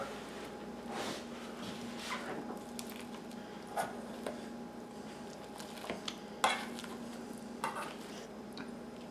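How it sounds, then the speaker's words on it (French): Boiled potatoes are mashed with a generous knob of butter in a pot, producing soft squishing thuds and occasional metallic clinks of the masher against the pot, close and moderately quiet, with a voice briefly in the background. "Alors, on va piler nos pommes de terre."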